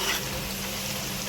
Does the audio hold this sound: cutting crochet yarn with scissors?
no